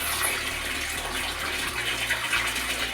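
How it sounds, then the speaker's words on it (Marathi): Lukewarm water pours and splashes while a six-month-old baby is bathed, a steady gushing, tap-like stream close by that runs continuously for a few seconds with no talk. "नॉर्मल कोमट पाण्याने आंघोळ घालते"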